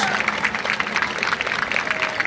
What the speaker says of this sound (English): Let's give the mothers a big round of applause.